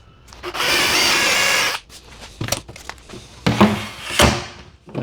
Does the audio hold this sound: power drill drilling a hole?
yes